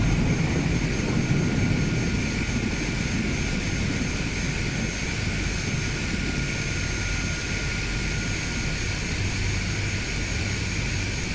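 A Cessna 208B Caravan turboprop takes off in Microsoft Flight Simulator 2020, heard from outside the aircraft. A loud, steady engine roar with a constant high whine drones on without letup throughout.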